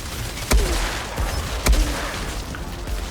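Light machine gun fire from the shooter game Outriders, heard as two sharp loud bursts roughly a second apart over a steady background of combat noise, with no talking.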